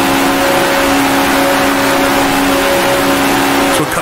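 Howling 1960s Formula One race car engine from the Grand Prix Legends racing game at the Belgian Grand Prix, a steady loud drone held at high revs throughout with a brief dip near the end.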